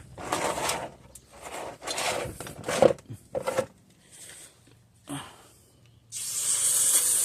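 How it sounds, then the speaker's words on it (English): Brake cleaner hisses from an aerosol can onto the front brakes of a Toyota Tundra in several loud bursts of varying length, separated by brief pauses, with a long final blast at close range. "So for that, I'm gonna use the nylon brush and some brake cleaner."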